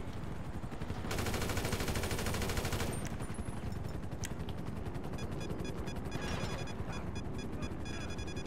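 Gunfire in Grand Theft Auto V, rapid automatic bursts that rattle on continuously for several seconds, loudest in a dense burst near the start, then steady chattering shots with no voices over them.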